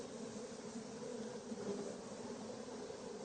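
Steady, close buzzing of honeybees at an open hive during a brood and pollen inspection, a dense continuous drone with no gaps and no talking.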